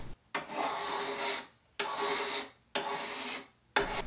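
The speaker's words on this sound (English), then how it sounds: "The new frets are in, and I'm filing the ends flush." A file rasps across newly installed fret ends on a vintage Arthur Hensel guitar, making four rhythmic back-and-forth strokes, each about a second long, separated by brief pauses, close and clear with no speech.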